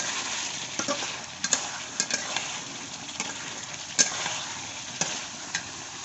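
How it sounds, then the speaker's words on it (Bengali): Fried rohu fish head being sautéed in a pan for a rohu and red amaranth dish, a steady close sizzle broken by the scrape and clack of a spatula stirring every second or so. "এবারে ভেজে রাখা মাথা দিয়ে কষে নেবো।"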